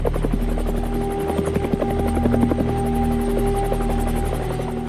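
A MINUSCA attack helicopter close by, its rotor thudding in a rapid steady rhythm over a loud droning engine whine.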